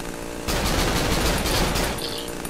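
Loud rapid gunfire in the video game Cry of Fear bursts out suddenly and rattles on for a couple of seconds, then eases off into a fainter tail.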